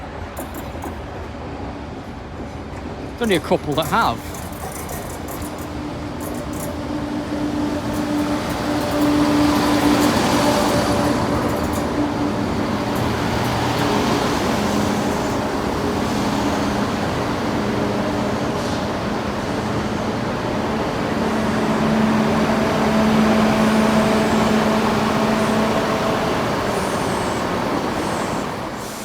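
A Northern service from Scarborough sits at a platform in Sheffield station, its engine a low steady rumble with a brief hiss and squeal early on, then a rising drone; a voice speaks briefly.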